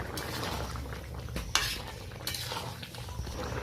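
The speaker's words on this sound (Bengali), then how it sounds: "হালকা হাতে আমি একবার নেড়ে নিলাম।" A spoon stirs a ridge gourd, potato and moong dal curry in a pot, giving soft scraping with a few sharp metallic clinks against the pot's side, close and alone.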